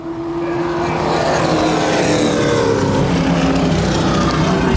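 A late model race car in the Great Lakes Outlaw Late Model Series at Baer Field Speedway, accelerating through turns three and four. Its engine gives a loud, sustained roar that builds steadily from the start and holds strong throughout.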